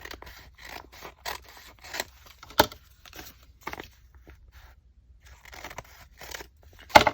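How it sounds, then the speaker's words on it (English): Scissors snip paper for a Halloween art journal in a series of close, crisp cuts with irregular pauses, plus light paper handling and rustling between the snips. "I gotta cut it a little bit narrower"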